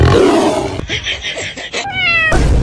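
A cat meows several times in short, high, drawn-out cries, with louder rough noise at the start and end.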